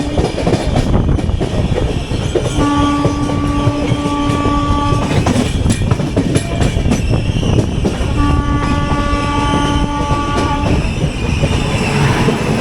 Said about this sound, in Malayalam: ഇന്ദ്രായണി എക്സ്പ്രസ് ആണിത്. മുംബൈ CSMT പുനെ.